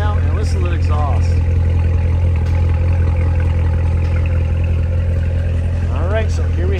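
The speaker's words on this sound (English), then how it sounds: "listen to the exhaust." A 2016 Chevrolet Corvette Z06 2LZ automatic coupe with a 6.2-liter supercharged LT4 V8 idles with a deep, steady low exhaust rumble, while a person talks over it.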